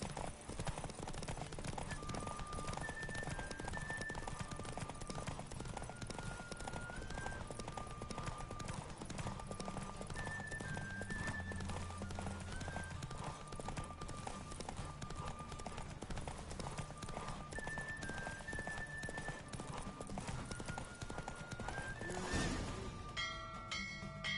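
Rapid, continuous hoofbeats of a galloping horse thunder along with a steady rhythm, backed by music throughout.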